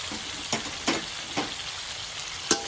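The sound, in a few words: stir-frying fish with celery and seasoning in a pan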